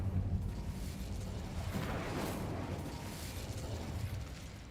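A fire spell is cast in a Harry Potter video game, a steady roaring, crackling burst of flame that holds at an even loudness for several seconds without pause.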